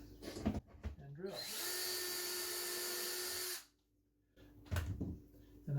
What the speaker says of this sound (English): So just hold that down there and drill.